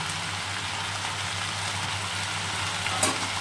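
Kundri (ivy gourd) with potato and onion frying in a pan, a steady close sizzle with a low hum underneath and one brief clatter near the end.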